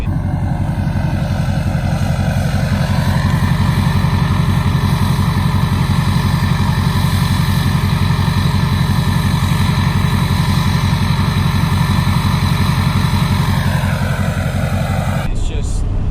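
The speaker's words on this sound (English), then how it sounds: "It's just raw diesel, and it definitely is loud enough now." A diesel engine with a 3-inch downpipe exhaust idles loudly and steadily, a deep rumbling drone with a constant pulsing throb, its pitch shifting briefly before settling, ending with a sharp clunk.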